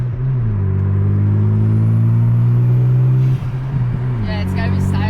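A pristine Mazda RX-7 FD fitted with HKS parts drives along with a loud steady engine drone, easing off after a few seconds before a brief higher-pitched rise at the end.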